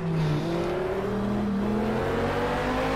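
Lamborghini race car engine in a racing video game at the Dubai 24 multi-class race, a steady loud engine drone with rising and shifting pitch through gear changes, continuous and close, with no one talking.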